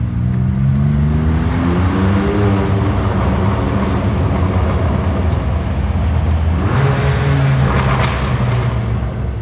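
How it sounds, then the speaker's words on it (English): A BMW M2 Competition fitted with a Milltek equal-length exhaust accelerates through a tunnel with the windows down: a loud, continuous booming roar that climbs in pitch, eases, then surges again near the end. "That's how loud the exhaust is with the windows down."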